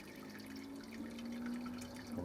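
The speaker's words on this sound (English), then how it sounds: "now I'm just going to sparge it with a couple of litres of 75-degree water" Hot 75-degree sparge water poured slowly through a grain bag during an all-grain brown ale brew day, a steady close trickle and splash of liquid with a faint hum underneath.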